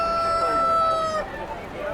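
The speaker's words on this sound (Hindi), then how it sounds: "तो भाई सारे मुर्गे वगैरह तैयार हो गए हैं गाड़ी में चढ़ के" A rooster crows loudly and close at hand, one long drawn-out call that breaks off into quieter clucking from chickens, loaded as poultry aboard a train in a crowded general carriage.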